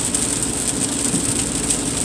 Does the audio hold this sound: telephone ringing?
no